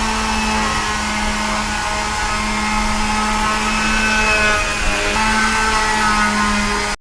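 Steady, loud whir of a powered polishing machine working on a cricket bat in a workshop, droning continuously with a constant hum and slight shifts in pitch as it presses on the wood.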